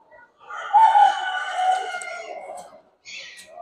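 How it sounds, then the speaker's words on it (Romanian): A rooster, apparently a Phoenix bantam at a poultry show, crows once loudly and nearby in a long drawn-out call, followed by a brief softer cluck. "campionul cu 95, la cocoș"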